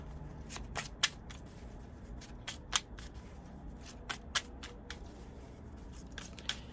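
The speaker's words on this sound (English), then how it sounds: "let's get some Angel Whispers cards to close this out." Angel Whispers oracle cards being shuffled give a run of crisp, close riffles and slaps at an irregular pace over a faint low background hum.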